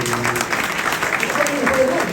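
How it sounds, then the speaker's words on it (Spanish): Applause for a speaker named Andrea at a motivational success-story event, a brief burst of crowd clapping with a voice talking over it and loud harmonic tones sitting beneath the claps. "Un aplauso para Andrea."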